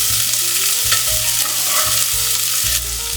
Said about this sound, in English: stir fry it.